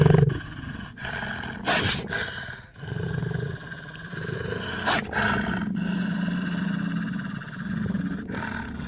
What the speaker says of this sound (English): These are the sounds of lions and wolves.